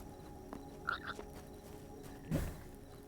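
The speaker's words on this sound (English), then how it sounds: "It's a frog." A frog in a video game croaks in a couple of short, distinct calls, one high chirp-like pair followed by a lower croak, over quiet ambient background.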